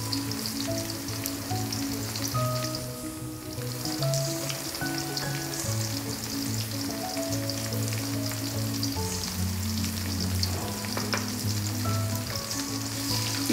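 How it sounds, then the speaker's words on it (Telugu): Mint and ginger garlic paste fry in a pan, giving a steady close sizzle with occasional stirring, under a soft melodic tone running throughout. "తర్వాత అల్లం వెల్లుల్లి పేస్ట్ కూడా వేసి ఫ్రై చేసుకుందాం."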